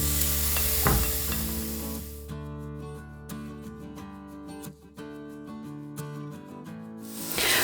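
Vegetables sizzling on a grill pan, a loud steady frying hiss with crackles that thins briefly midway and swells again near the end.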